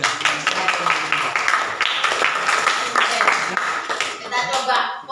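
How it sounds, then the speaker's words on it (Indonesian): A class of ninth-grade math students claps for a group that has just presented, giving a dense, lively round of applause that lasts several seconds, with voices mixed in. "Tepuk tangan dulu ya."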